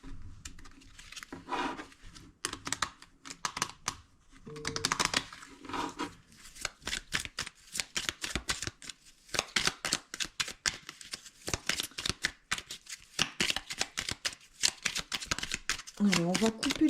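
A tarot deck is shuffled by hand in rapid, papery riffles and slides that keep going for the whole stretch, close and clear. Someone talks intermittently under the card sounds.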